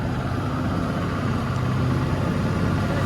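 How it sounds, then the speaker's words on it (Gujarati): A fishing boat's engine running steadily as the clutch engages to haul in the wire, a continuous loud low rumble with no pauses. "હવે જો ફાઇનલી આપણે ક્લચ મારી લીધો ને વાયર ભરવાનું ચાલુ થઈ ગયા."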